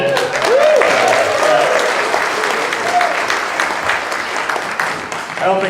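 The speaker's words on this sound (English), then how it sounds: "I'll take the applause" Wedding reception guests applauding steadily after a meal, a dense wash of clapping with some voices mixed in, fairly loud and continuous throughout.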